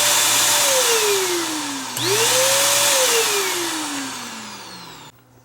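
A Bissell Power Stick vacuum with a burned-up, smoking motor whines loudly as it runs, its pitch sliding down, jumping back up, then sagging again before the motor cuts off near the end.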